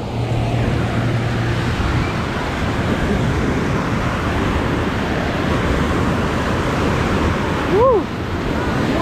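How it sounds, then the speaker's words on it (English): Steady broadband rush of water in a water park wave pool, constant and fairly loud throughout, with a brief whoosh near the end and no talking. "I'm gonna start in the wave pool"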